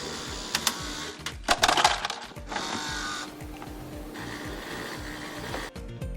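A refrigerator ice maker whirls and hums while ice clatters and rattles inside, with irregular sharp knocks and a low mechanical drone underneath.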